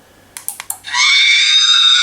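A full-size R/C R2-D2 droid plays its scream sound effect: a few quick electronic chirps, then a loud, sustained high-pitched electronic shriek.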